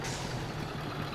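Truck air brakes in Farming Simulator 22 hiss over a steady low engine drone, loud and continuous throughout the short stretch with no voices.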